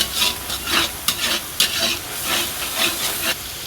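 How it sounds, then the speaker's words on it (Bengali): Spice paste sautéed in a pan for a hotel-style chickpea (boot) curry, a steady close sizzle and hiss broken by rhythmic scraping strokes of a spoon stirring, with a few sharp clinks against the pan and no talking. "মশলা কষানো হচ্ছে"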